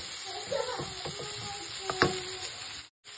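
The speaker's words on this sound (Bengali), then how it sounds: "আমি বিটরুটটাকে মিডিয়াম আঁচেতে ফ্রাই করছি" Beetroot fries over medium heat in a pan, a steady close sizzle broken by a few stirring scrapes, with no voices, ending in a brief cut to silence.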